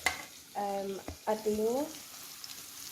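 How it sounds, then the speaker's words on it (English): Omelet fillings sizzle in coconut oil in a pot, giving a low steady frying hiss while a voice speaks briefly over it. "So there it is, sizzling."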